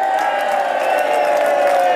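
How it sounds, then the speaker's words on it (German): A large crowd applauding and cheering steadily, a dense wash of clapping and whoops at constant loudness throughout. "mag ik nog één keer een gigantisch groot applaus voor deze club mensen?"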